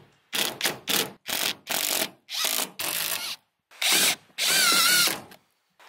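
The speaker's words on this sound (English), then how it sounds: "I don't have experience using an impact driver, so I stripped a couple of the screws" An impact driver drives screws into van mounts in a rapid series of loud, close bursts, about nine hammering pulses with short gaps, the last one longer and rising in pitch.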